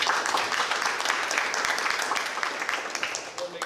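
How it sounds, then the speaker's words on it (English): A round of applause for student athletes at a school district board of education meeting: dense, steady clapping from a crowd, loud and close throughout, thinning slightly toward the end. "So let's give them a round of applause."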